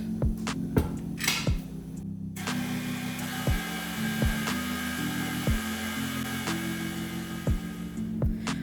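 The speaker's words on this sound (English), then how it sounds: "beat this on low speed now because we've got a lot of mixture here, a lot of batter." An electric mixer runs on low speed, beating a large batch of thick Basque cheesecake batter in a bowl. It makes a steady motor hum with a throbbing rhythm and occasional knocks against the bowl, close and continuous.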